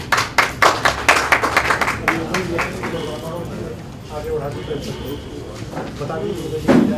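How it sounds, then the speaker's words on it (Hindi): Scattered audience clapping at a cultural release programme, several sharp claps at first that thin out into lighter, irregular applause under people talking nearby. "तालियां।"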